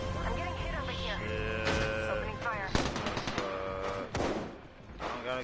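Bursts of automatic gunfire and thuds from a multiplayer shooter video game, mixed with excited voices talking over the shots, with bright sharp cracks clustered through the middle and end.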